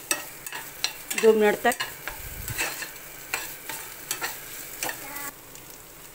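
Amla murabba mixture with red chili fries in a pan, sizzling under brisk scraping stirs and clinks of a spoon, close up, with a brief spoken phrase.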